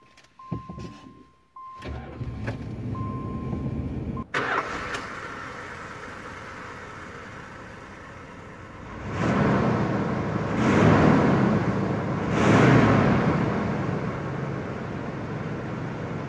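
A 1985 Chrysler Fifth Avenue engine idles as a low, steady hum heard from inside the car, with a few clicks at the start and the rumble swelling twice mid-way.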